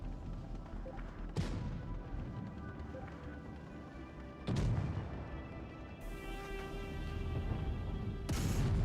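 Heavy tank cannon shots and impact booms in WoT Blitz, an IS-4 battle, with a few sharp loud blasts spaced several seconds apart over a low engine rumble.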